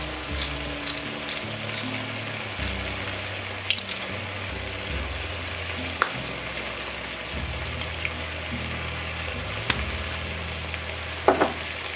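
Chopped garlic and ground pepper stirred in a hot pan for zucchini moussaka, a continuous close sizzle with occasional scraping clinks of the utensil against the pan.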